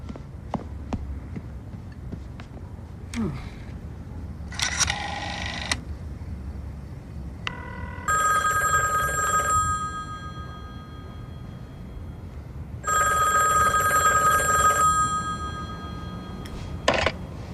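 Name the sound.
telephone ringing on an outgoing call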